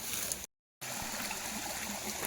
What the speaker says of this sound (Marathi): हे नदीचं पात्र थोडंसं उन्हाळा असल्यामुळे थोडंसं पाणी कमी झालं.